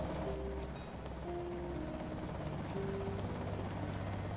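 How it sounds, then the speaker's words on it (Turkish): Helicopter rotor chop in Project Zomboid droning steadily throughout, with a low engine rumble and scattered game sound effects over it, no talking. "Yine helikopter geldi abi."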